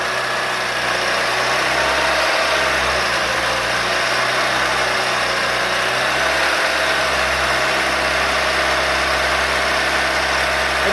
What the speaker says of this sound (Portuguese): Agora vamos colocar em 2000 RPM.